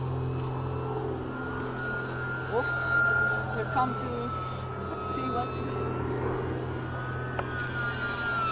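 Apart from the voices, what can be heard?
Twinstar RC model airplane flying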